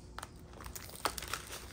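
Plastic packaging around a set of green file folders being pulled open: soft, close crinkling and crackling in short irregular bursts, quiet over a low steady hum.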